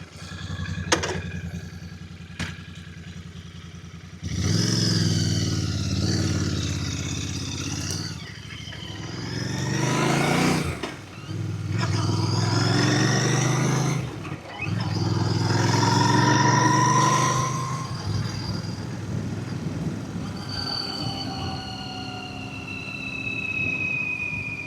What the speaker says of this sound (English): The Royal Enfield V-twin, lovely and smooth.